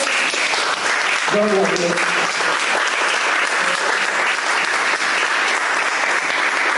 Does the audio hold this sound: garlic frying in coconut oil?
no